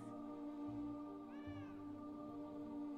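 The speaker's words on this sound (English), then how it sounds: "It's clearly freaking out this cat. The cat wants nothing to do with this." A cat in Pathfinder: Kingmaker gives a single short, agitated meow midway through, over a steady low hum and drone of background game ambience.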